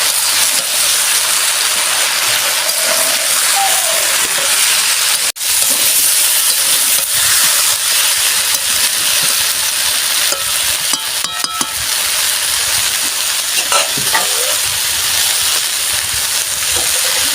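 Pointed gourd and other mixed vegetables fry together in a pan with a loud, steady sizzle. Occasional stirring scrapes and a sharp knock about a third of the way in break the hiss. No one speaks.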